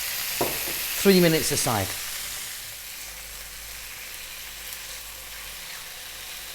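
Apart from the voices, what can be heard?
lemon garlic chicken frying on high heat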